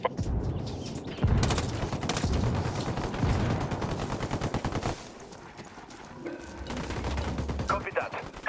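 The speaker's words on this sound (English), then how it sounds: "I'm opening fire." Automatic gunfire in a tactical shooter game set in Bolivia, with dense, rapid bursts rattling almost without break and a brief lull near the end before firing resumes, loud and close, with voices talking underneath.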